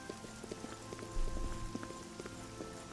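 Rain falls in the game Oblivion as a steady, faint hiss, while soft rhythmic hoof-like clops and a low thump sit underneath throughout.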